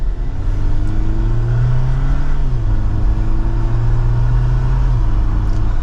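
A 2024 Jeep Wrangler Rubicon accelerating in manual mode from second gear, a loud steady engine drone rising in pitch then dropping with a gear change and climbing again, heard from inside the cabin with road rumble.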